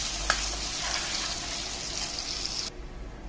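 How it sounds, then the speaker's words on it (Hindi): Amla cooks in ghee in a pan, making a steady bright sizzle with stirring scrapes that cuts off near the end, leaving a quieter background and no voices. "तो आंवले को पकते पकते हो गए हैं 4 से 5 मिनट और इसने घी छोड़ना शुरू कर दिया है"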